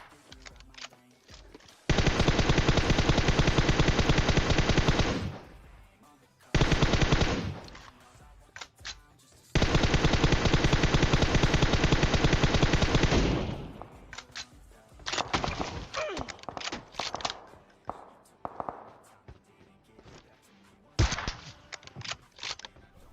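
Automatic rifle fire in the battle royale game PUBG Mobile, with long sustained bursts and shorter broken volleys of rapid shots, loud and close, then scattered single shots and clicks.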